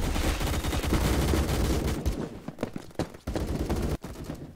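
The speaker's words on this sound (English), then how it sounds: "I'm just shotgun sniping everyone." Shotgun gunfire in the Roblox game Phantom Forces, a rapid string of loud overlapping blasts for about two seconds, followed by a few sharper isolated shots.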